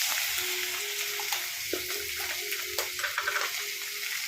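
Ginger and garlic sizzle steadily in hot oil with mustard seeds, a continuous close crackle with small pops and occasional stirring scrapes.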